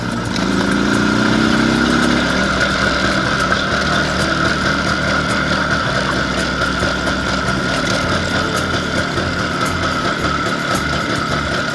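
An IZh Planeta 5 motorcycle engine runs steadily and loudly throughout a ride near a lake at dachas, its droning mid-pitched note continuous, with wind rush and no talk.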